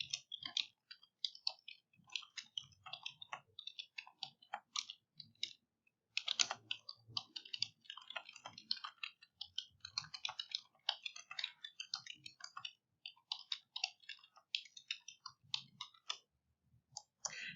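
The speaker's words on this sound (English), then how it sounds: "So I'll write it right at the top." A pen scratches across paper while a question is written at the top of the page, a quiet, close run of small scritching strokes in short bursts with brief pauses.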